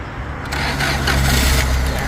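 A 1974 Mahindra Jeep CJ4A with its original engine turns over and catches, then settles into a loud, steady low idle close by.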